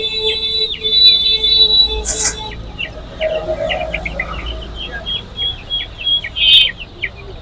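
Chicken chicks at a poultry market cheep in a steady run of high, rapid peeps, close and fairly loud, with a busy murmur of market noise and occasional sharper sounds underneath.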